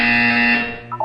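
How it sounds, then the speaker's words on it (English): A buzzer in the video game Portal 2 sounds a single loud, sustained electronic tone that holds steady, then cuts off, leaving only a faint short blip after it. "You will hear a buzzer. When you hear the buzzer, look down at the floor."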